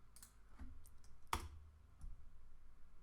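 A few soft mouse clicks, one sharper and louder than the rest, sound close and quiet against faint room hiss, made while setting a star rating element in a Bubble.io web app.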